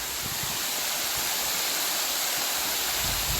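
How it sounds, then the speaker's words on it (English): A waterfall at an old quarry in Georgia's James H. "Sloppy" Floyd State Park roars in a steady, dense hiss close by, loud and unbroken with no voices. "Let me go here behind the waterfall."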